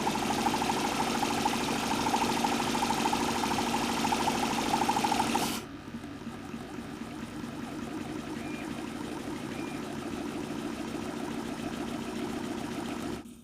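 A homemade Stirling engine mounted on a bike runs with a fast, steady mechanical whir and clatter, then abruptly drops to a quieter, smoother running sound partway through.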